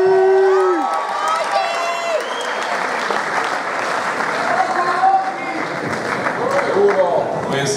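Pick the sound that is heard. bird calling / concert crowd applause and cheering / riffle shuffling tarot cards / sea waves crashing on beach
concert crowd applause and cheering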